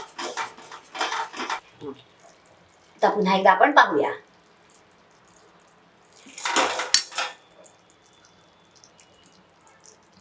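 Hardened ball of jaggery syrup for tilgul ladoo tapped against a bowl, giving a few short clinking knocks around cooking talk, with water and utensil handling nearby.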